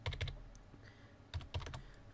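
Keys clack on a computer keyboard as a shop code is entered, two short bursts of a few quick, close keystrokes separated by a quiet pause.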